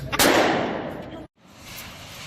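A loud gunshot cracks out at an indoor-style shooting range, its sharp blast decaying into a noisy roar before a brief gap and a quieter second burst of range noise.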